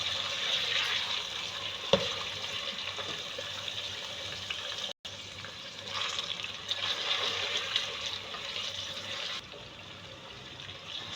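Meat and onions fry in a pan for bhindi gosht, giving a steady, moderately quiet sizzle with a faint hiss. The sizzle carries on with only brief breaks and a single clink.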